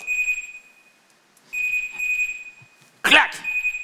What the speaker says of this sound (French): Vas-y, mets-moi un coup de réveil.